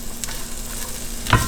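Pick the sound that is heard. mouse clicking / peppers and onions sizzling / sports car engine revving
peppers and onions sizzling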